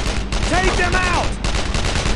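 Dense covering gunfire in the World War II shooter Brothers in Arms: Road to Hill 30, a loud, continuous barrage of overlapping shots with a soldier shouting over it.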